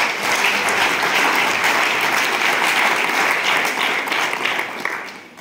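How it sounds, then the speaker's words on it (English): Loud, sustained applause from a crowd at a small-scale farmers' graduation ceremony, steady throughout and tapering off slightly at the end. "I think you deserve a round of applause to yourself."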